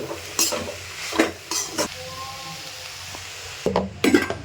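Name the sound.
stir-frying cluster bean palya with coconut and coriander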